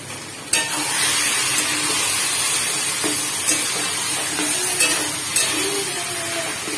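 Food frying in a pan while being stirred at home, with a steady sizzle under occasional scraping and clinking of a spoon against the pan.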